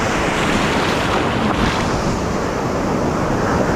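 Ocean waves breaking over a sandbar along the Galveston, Texas surf, a steady loud wash of surf with wind buffeting the microphone throughout, no voices.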